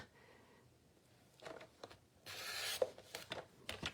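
A paper trimmer slices through cardstock for an explosion card: a long rasping blade stroke, surrounded by close scraping and rubbing as the paper is handled. No one speaks.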